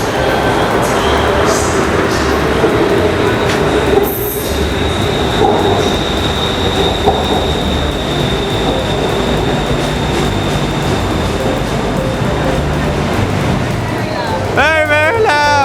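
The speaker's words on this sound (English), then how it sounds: "Oh, is that the train over there, behind you?" A train rumbles into a Bangkok station loudly with clattering wheels and a rising metallic squeal near the end as it slows, with voices talking over the noise.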